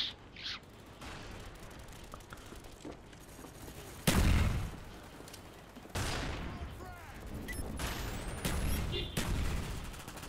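MP5K submachine gun fire in Call of Duty: Black Ops, sharp bursts of rapid shots at about 4 and 6 seconds amid game ambience, with softer clicks and chirping effects between.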